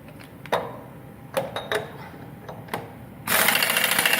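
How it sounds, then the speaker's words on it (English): An impact gun tightens a bolt on a Rolls-Royce Silver Cloud engine in a workshop. Scattered metallic clicks and taps come first, then a loud, sustained rattling hammer burst near the end. "I'm going to use an impact gun to tighten this up because it has to be really tight"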